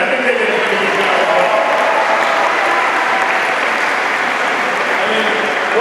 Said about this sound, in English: Let's give a big round of applause to our back-to-back state championship football team tonight.